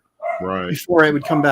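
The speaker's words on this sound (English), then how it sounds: "Sorry, that's my dog." A pet dog barks loudly and close in a home during a live drawing stream, three sharp barks in quick succession, overlapping with a person talking.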